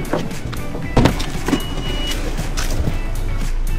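Car moved and parked beside a waterway in Thailand, with a low steady engine idle, a couple of soft thumps like a door or body shifting, and faint mechanical whirring, all close by.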